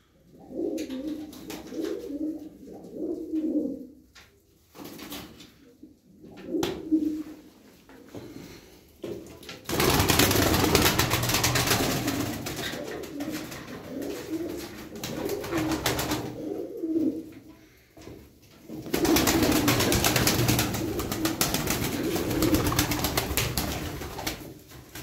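Tumbler pigeons coo in soft, repeated low murmurs from a flock nearby, with occasional wing flutters and rustling. Broadband noise bursts come in two long stretches, and no one speaks.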